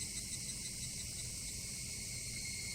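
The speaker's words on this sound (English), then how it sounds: "Only the cry of the cicadas remained" Cicadas crying in the visual novel Higurashi, a dense, continuous high-pitched droning chorus with a faint low rumble beneath, steady and unbroken throughout, with no talk.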